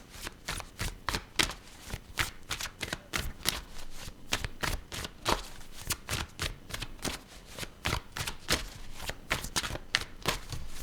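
Tarot cards shuffled by hand in a steady stream of crisp riffling flicks, close and fairly loud, repeating rapidly without pause and with no voice.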